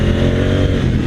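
An adventure motorcycle on street tires accelerates hard across dirt, its engine note loud and close with a steady, throaty drone that holds for the full second.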